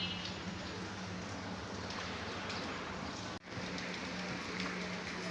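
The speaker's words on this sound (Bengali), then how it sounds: "এখন বাইরে হালকা ঝিরঝিরে বৃষ্টি হচ্ছে" Soft, steady patter of light rain outside, a continuous even hiss with a brief dip partway through.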